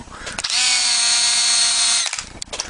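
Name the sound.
screw being tightened into plastic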